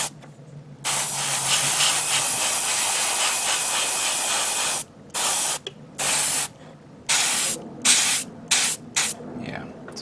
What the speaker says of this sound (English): This Gaahleri airbrush is amazing. It is my new workhorse airbrush.